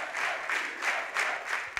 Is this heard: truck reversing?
no